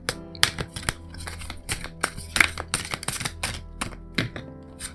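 Tarot cards are drawn and handled from a deck, making a run of close, irregular flicks, taps and soft thumps of cardboard with no talk.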